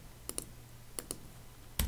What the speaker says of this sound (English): Sorry, my typing's terrible.